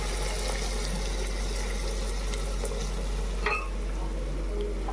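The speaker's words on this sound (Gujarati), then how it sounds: "આ બાજુ ડુંગળી બટાકાનું શાક વઘાર્યું જો ગાઈસ" An onion and potato curry sizzles loudly and steadily in a pan as it is tempered, with occasional stirring clicks over a low hum.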